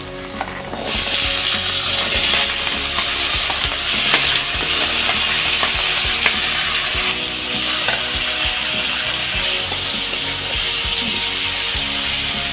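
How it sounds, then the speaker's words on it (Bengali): Jackfruit pieces frying in hot oil in a kadai with salt and turmeric: a loud, continuous sizzle close by, broken by frequent scraping stirs and light knocks of the spatula, steady throughout with no speech. "তেলটা দিয়ে আমি কাঁঠালগুলোকে নুন হলুদ দিয়ে ভেজে নেব সুন্দর করে ভেজে নিচ্ছি"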